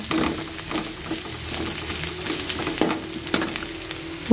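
Garlic frying in oil in a pan until browned, a close, continuous crackling sizzle with a few soft spoon scrapes and taps, no voices.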